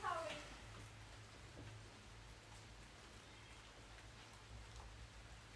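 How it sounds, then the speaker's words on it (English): Steady evening rain falling outdoors, a soft continuous hiss, with a brief louder rustle at the start and a low hum underneath. "Listen to that rain."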